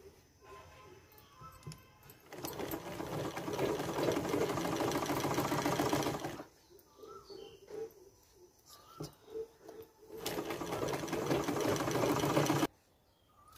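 A sewing machine stitches a blouse in two long, steady runs of rapid mechanical whirring, close and fairly loud, separated by a quieter pause with light handling noises.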